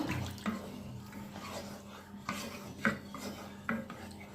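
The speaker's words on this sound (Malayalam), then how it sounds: "നല്ല പോലെ ഒന്ന് മിക്സ് ചെയ്ത് കൊടുക്കാം" Tomato masala curry is stirred in a pot with a spoon, giving repeated scraping and clinking knocks against the metal, some sharp taps standing out over a soft wet background, with no voices.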